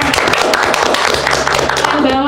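Loud, dense clapping from an audience honoring a civil engineering student team that won a seismic-performance category, a continuous rush of hands close by that carries on throughout.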